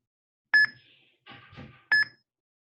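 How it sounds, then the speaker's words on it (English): A NeuroNode controller device gives two short, bright electronic beeps as its switch activates, spaced over a second apart, with a softer blip of sound between them in an otherwise quiet room. "That is that beep that you often hear on the device when you go above"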